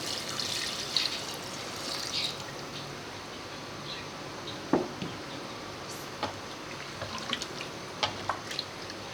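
Water pours steadily into a pressure cooker holding beef pieces and browned onions, a soft continuous splashing hiss at low level with a few small clinks, no talk.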